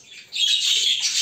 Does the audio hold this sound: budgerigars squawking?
yes